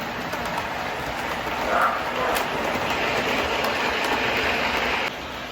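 A model train rolls steadily along a DC-block model railroad track, a continuous rumbling hiss with faint clicking, fairly close, ending with a slight drop in level.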